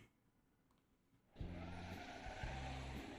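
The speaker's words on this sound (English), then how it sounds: "the sound of bus departing fills my ears" A bus pulls away as a game sound effect: near-silence gives way to a sudden loud engine rumble that holds with a rising drone, then repeats a moment later.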